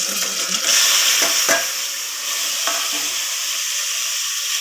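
Whole spices, ginger-garlic paste, onion and tomato fry in oil inside a pressure cooker for coconut milk rice, giving a loud, close, hissing sizzle with a few soft scraping stirs and no talk.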